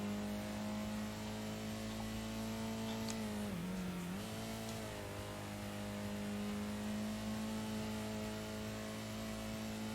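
Steady car engine from the Gran Turismo arcade racing game, holding a constant droning pitch with a brief dip and recovery partway through, loud and continuous without talk.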